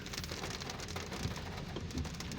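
Rain falling outdoors on a street near McKinley, a faint but steady wash of drops and patter, continuous throughout with no talking.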